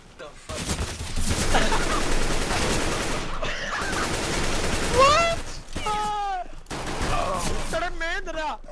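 Bursts of automatic gunfire in Counter-Strike: Global Offensive, a loud, dense, near rattle of shots filling the first half, then choppier firing broken by short gaps, with voices talking over it.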